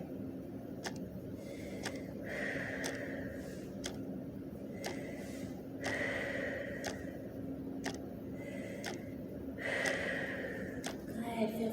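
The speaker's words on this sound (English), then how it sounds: "We'll take 3 deep breaths here." Slow, deep breaths drawn in and let out during a Pilates ball stretch, several soft inhale-exhale cycles repeating at a calm, even pace over a faint steady background hum.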